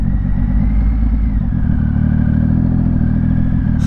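Motorcycle with a slipper clutch shifting gears, a loud steady engine drone close by with a slight change in pitch partway through as the gear changes, running continuously with no talk.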